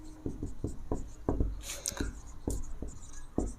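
Chalk or marker taps and scratches on a classroom board during a lesson, a steady series of short strokes with a longer rubbing stretch in the middle, close and moderately loud.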